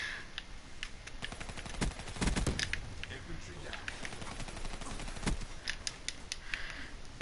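Gunfire from a gun in Call of Duty, shown as rapid bursts of sharp shots spread across several seconds at close range, with some louder clustered volleys and a voice talking over parts of it.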